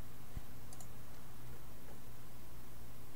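Keys and clicks on a computer keyboard while filling in an online PayPal button form: a few sparse, faint taps and clicks early on over a quiet, steady background hiss.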